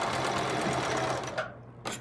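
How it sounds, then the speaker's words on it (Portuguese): Sewing machine running steadily while stitching the shoulder seam of a long dress, a continuous close whirring hum that slows and stops near the end, then starts briefly again. "aqui você vem na mesma máquina, posiciona e faz a costura novamente aqui"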